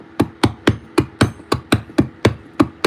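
Steel hammer striking a chisel into a solid block of Derbyshire Gritstone while carving a crest, about eleven sharp close blows in a steady, even rhythm, alone without talk.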